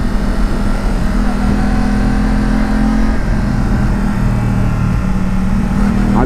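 A Yamaha MT-10 motorcycle engine drones and revs while riding on the Passo Penice road, a loud steady mid-pitched engine note under wind rush with shifting tones as the revs change.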